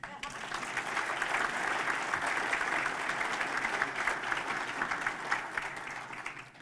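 A large audience claps loudly and steadily at a State of the City address in San Buenaventura, the applause holding at full strength before tapering off slightly at the end.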